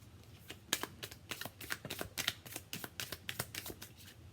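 Island Time Wellness oracle cards are shuffled by hand in a quick, uneven series of soft crisp riffles and flicks, close and fairly quiet, with no talking.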